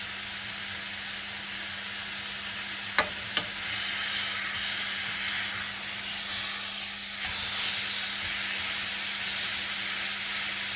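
Beef searing in a hot pan before going into the oven: a steady, close sizzling hiss fills the whole stretch, with a couple of sharp clicks near the start and no talking.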